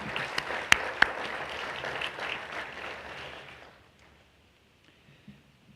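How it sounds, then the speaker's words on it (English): Audience applause at a community awards evening, a few sharp near claps standing out over the crowd before the clapping fades away to near silence by the end. "This round of applause is for you in anticipation of reaching our goal."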